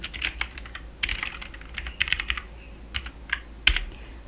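Keys on a computer keyboard clack in short irregular bursts, close and crisp, while someone types a name, with no talking.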